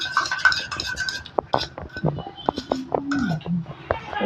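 Maida flour dough being mixed with oil in a bowl, with repeated clinks and scrapes of utensil against the bowl under steady talk, close and fairly loud.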